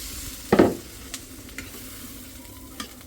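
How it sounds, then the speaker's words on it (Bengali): Water poured into a hot pan while cooking khichuri, a short burst of sizzling and spattering followed by quieter stirring scrapes and a few small clinks. "এবার পানিটা দিয়ে দিই"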